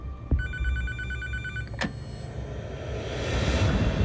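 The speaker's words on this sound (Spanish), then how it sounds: "me despertó el teléfono en el medio de la noche" A telephone bell rings once in a quiet room in the middle of the night, a short bright trilling burst, followed by a single sharp click and then low background hum.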